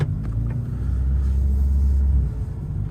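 An Alpine A110 with its 1.8-litre 252 hp engine running in sport mode gives a loud, close, steady low rumble from inside the cabin, with a slight swell in the middle and no one talking.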